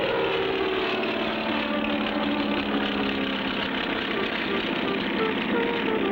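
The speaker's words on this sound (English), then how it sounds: "hop into the plane with Spinner and Paddlefoot, and speedily start on a journey" Steady droning engine hum of a propeller airplane in flight in a cartoon, continuous and fairly loud throughout with no pauses.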